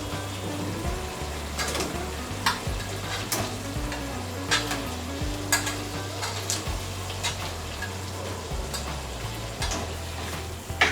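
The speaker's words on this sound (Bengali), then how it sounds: "তো এখন আমি এর মধ্যে ভেজে রাখা শশার টুকরোগুলো দিয়ে দিচ্ছি।" Fried cucumber pieces sizzle in poppy seed paste in a pan while they are stirred. The frying hiss stays continuous and close, with scattered scrapes and taps of the spoon and a low hum underneath.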